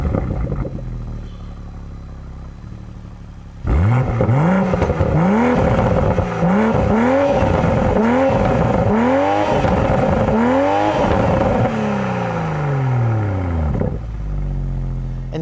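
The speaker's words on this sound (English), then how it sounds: "I'll let you guys hear what that engine sounds like." A 2020 BMW Z4 M40i's engine idles quietly, then starts up and revs repeatedly in a series of rising, falling blips, loud and close, with crackles and pops from the exhaust between revs before it settles back to idle.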